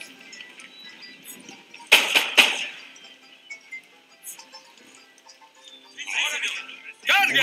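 Cavalry horses neigh and hooves clatter in a Battle of Ytororo strategy game, with sharp bursts of battle noise and whinnies rising at intervals.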